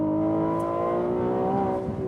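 The V6 engine of a Ferrari 296 GTB, the first V6 in a Ferrari road car, revs hard and close with a loud, steady rising tone and no talk.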